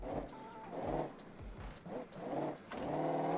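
Engine drone of a car in the BeamNG.drive driving game, driven with a wheel missing, rising and falling in steady pulses with some clatter, loud and continuous, with faint voice-like sounds mixed in.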